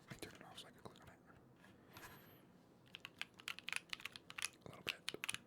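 Crisp key clicks tapped out on a compact 60% mechanical keyboard, at first sparse and then a quick, irregular run of close, fairly quiet presses over a faint low background.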